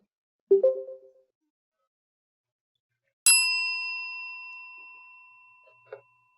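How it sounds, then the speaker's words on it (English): A short chime sounds, then after a pause a single bright bell strike rings out and slowly fades, followed by a faint soft tap. "Let's ring some bells."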